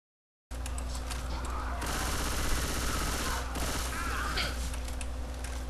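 Rapid automatic gunfire from teammates in the Left 4 Dead 2 video game, a dense continuous burst of shots with mechanical clatter, loud and close.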